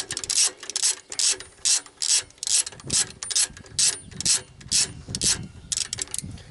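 A ratchet wrench clicks as it undoes the 10mm tensioner bolt on an engine, with rapid bursts of close, loud pawl clicking that repeat in a steady back-and-forth rhythm with short pauses between strokes.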